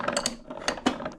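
Gears turning inside a Shimano Stella spinning reel during a rebuild as the handle is spun, giving quick close clicky ratcheting ticks in a brief uneven burst.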